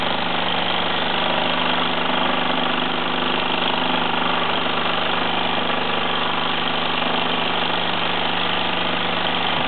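A Mamod SE1/2 model steam engine runs steadily, giving a continuous close whirring, hissing mechanical drone with no pauses and no talking.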